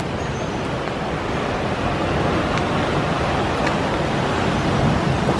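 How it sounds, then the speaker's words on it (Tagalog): Steady roar of sea surf washing onto the shore in Ilocos, Philippines, a broad continuous rush with gentle swells in loudness, no voices. "So, ayun lang yung dagat."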